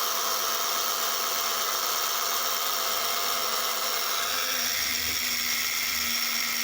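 A small electric motor whines continuously and loudly while WSR 3D tyre conditioner is applied, a steady high-pitched drone with a slight shift in tone partway through and no talking.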